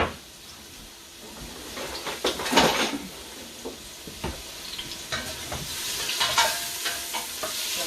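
Vegan collard greens stirred and frying in a pot, with soft scraping stirs and a steady low sizzle and hiss, quiet and close, no talk.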